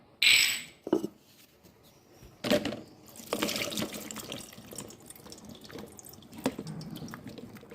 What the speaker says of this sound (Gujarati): હવે આનું ગુંદાનું પાણી પણ આપણે નિતારી લઈએ